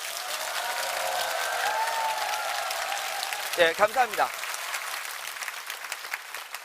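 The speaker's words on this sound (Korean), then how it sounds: "본인 자신을 위해서 한번 크게 박수 한번 부탁드리겠습니다." A seminar audience claps loudly and continuously, with a brief spoken thank-you from a man partway through the applause.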